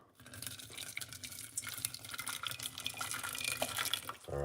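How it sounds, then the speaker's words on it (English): Hot water is poured from a kettle onto cloves in a strainer set over a large cup, a soft continuous trickle and splash that builds slightly and stops abruptly. "pour some hot water."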